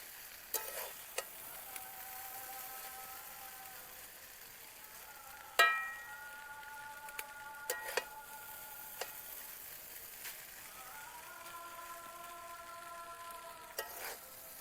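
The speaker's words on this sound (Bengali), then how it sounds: "সবগুলো ম্যাগি একসঙ্গে দিয়েছি, কিন্তু এটা সাবধানে নাড়তে হবে।" Maggi noodles being stirred carefully in a wok: sparse clinks and scrapes of a utensil against the pan, one louder knock, over a faint, steady sizzle of frying.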